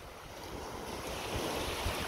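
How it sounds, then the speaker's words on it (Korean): Sea waves wash continuously onto Myeongpa beach in Goseong, a steady broad surf roar with some wind noise, no voices. "파도 소리 들으면서"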